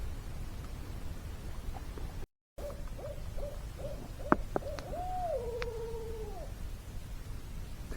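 An owl calls by a snowy wooded lake in winter, a series of soft hoots followed by a longer wavering call, moderately near over a constant background hiss.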